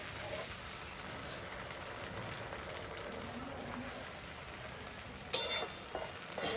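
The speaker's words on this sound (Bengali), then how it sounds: "চলো মশলাটাকে সুন্দরভাবে কষিয়ে নিই" Ginger, garlic and chili paste masala frying in a pan, a soft continuous sizzle with a few faint scrapes and a louder clatter near the end, fairly quiet and without speech.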